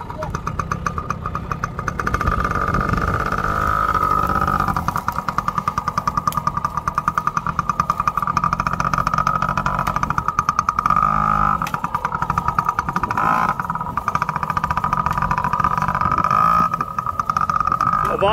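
Small engine of a kid's race car buzzing and droning steadily, climbing in pitch as it accelerates after a shift into second gear, with voices talking over it.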